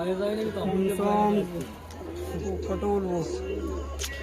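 Giribaz pigeons at a home sale coo in repeated low rounded bursts through the clip, fairly close, with a steady low hum beneath and people talking in the background.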